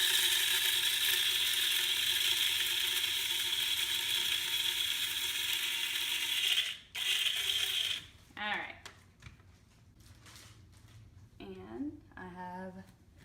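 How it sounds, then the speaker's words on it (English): An electric coffee grinder grinds roasted coffee beans for traditional Eritrean-Ethiopian coffee. It gives a loud, steady mechanical whir for about six and a half seconds, then cuts off, and a voice starts talking. "I'm just gonna turn my grinder on here"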